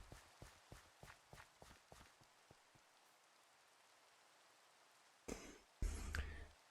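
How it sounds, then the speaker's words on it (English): Faint, steady rain in a video game falls near a farm road, heard alongside a run of soft rhythmic thumps that stop, then two louder noisy bursts at the end. "get to sleep and get rid of this rain"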